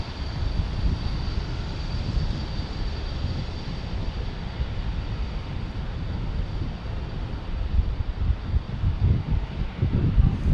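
A British Airways airliner bound for London Heathrow passes low overhead at San Diego airport, a loud continuous engine roar with wind buffeting that swells toward the end.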